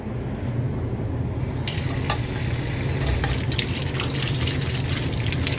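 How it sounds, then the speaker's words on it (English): Running tap water at a kitchen sink while hands are rinsed without soap, a steady close hiss and splash of flowing water with occasional brief clatters, no talking. "So let's go wash your hands."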